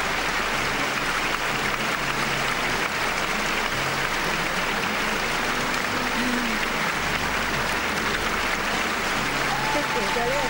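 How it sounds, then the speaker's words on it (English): Loud, continuous applause pours from all sides of a figure skating arena crowd at the World Championships, dense and unbroken, with voices audible beneath it. "Listen to the applause raining down from all sides."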